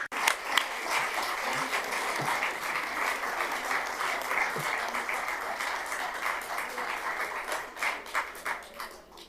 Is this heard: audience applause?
yes